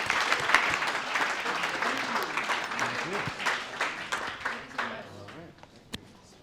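An audience at a tech talk event at USC in Los Angeles applauds the speakers, steady clapping that swells and fades over several seconds, fairly soft and diffuse, with a few voices mixed in.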